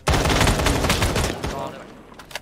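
Rapid gunfire in an online shooter video game, a loud close fusillade of overlapping shots for about a second and a half, then tapering off with a few trailing bangs.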